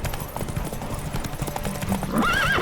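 Galloping hooves and a horse's whinny from The Witcher 3: Wild Hunt, a steady clip-clop rhythm running throughout with a rising neigh near the end, close and loud over in-game ambience.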